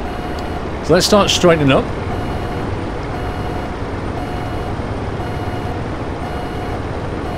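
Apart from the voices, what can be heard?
truck reversing trailer into parking bay, reversing beeps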